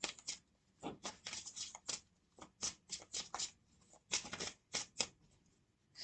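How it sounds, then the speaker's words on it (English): Tarot cards shuffled by hand in repeated riffling bursts, each a crisp papery flutter separated by short pauses, close and fairly loud with no talking. "I like to shuffle until something come out"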